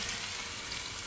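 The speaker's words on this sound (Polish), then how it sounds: "A tymczasem smażą nam się kurczaczki." Chicken pieces frying in a pan inside a camping trailer, a steady close hiss and crackle of hot fat with no voices over it.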